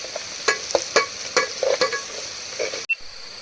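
Chicken, crab and clams in a masala being stirred in a pot, village style: a series of distinct scraping, clattering strokes at an irregular rhythm over a light sizzle, close and fairly loud, ending in a sharp knock.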